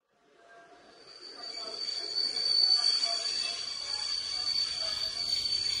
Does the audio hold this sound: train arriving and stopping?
yes